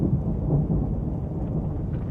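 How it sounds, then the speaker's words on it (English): Heavy rain falls steadily while thunder rolls as a deep, continuous low rumble. The storm sounds fairly loud and close throughout, with no voices over it. "I hear the sound of an abundance of rain."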